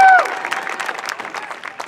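A high school band's community performance audience at Franklin claps for a band staff member, a brief scatter of applause with a few cheers rising right after a voice finishes speaking.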